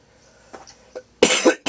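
A man with a cold coughs during a Jeopardy home game session: two faint throat sounds, then a loud burst of harsh coughs and a final short cough, close to the microphone.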